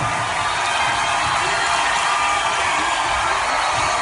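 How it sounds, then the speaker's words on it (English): Concert crowd at Webster Hall in New York giving a wild ovation, a loud, continuous roar of cheering and screaming with no breaks, sustained for the whole stretch. "the crowd gave me like this insane ovation"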